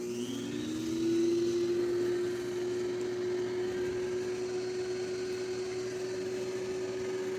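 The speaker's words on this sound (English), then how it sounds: "I'm going to turn the vacuum on low and show it to her." An Oneisall pet vacuum runs on its low setting, starting up within the first second and settling into a steady, moderately quiet motor whine that holds unchanged with no voices.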